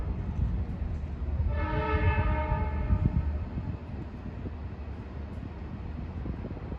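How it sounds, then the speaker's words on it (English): An LIRR C3 train sounds a single harsh, moderately loud horn blast of about two seconds at Mineola station, set against rumbling rail noise and wind buffeting. "The horns on those C3 cars won't win any awards for a pretty sound."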